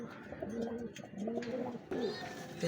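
A pigeon of a Pakistani bloodline gives a short, soft run of cooing notes nearby, fairly quiet.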